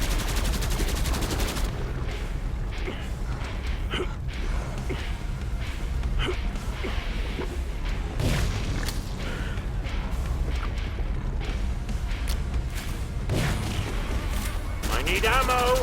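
Heavy, sustained gunfire in the video game Killing Floor 2 on a Santa's workshop map, loud and relentless throughout, mixed with shouting game voices and other combat effects.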